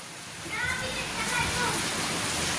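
Rain falling on garden plants makes a steady, soft hiss throughout, with children's voices faintly audible beneath it.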